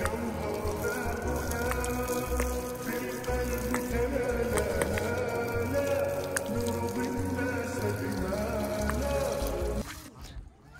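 Cold water pours and splashes steadily for ducks bathing in a farm pool, a continuous close trickling with scattered drips that stops abruptly near the end.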